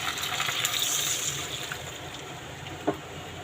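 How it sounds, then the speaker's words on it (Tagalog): Water pours steadily into a pot of chicken pochero, a soft continuous gush with a small clank near the end. "Maglagay din tayo ng tubig."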